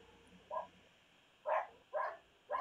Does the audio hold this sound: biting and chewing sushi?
no